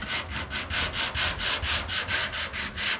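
Body filler being sanded by hand on a 1989 Ford F250, a steady rhythmic back-and-forth scraping of about a dozen even strokes, close and alone.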